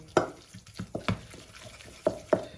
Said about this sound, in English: So I'm just using the spoon to just break up the pork mince